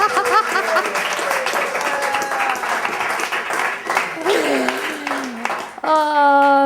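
A church congregation claps and applauds during a service, a dense patter of many hands with voices sounding over and around it.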